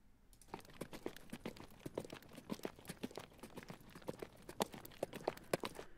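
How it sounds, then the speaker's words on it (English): Quick, light hoof clops patter rhythmically, like a horse trotting on a hard surface, fairly faint and close. "I type in, horse, it's going to pull up all the sound effects that I have"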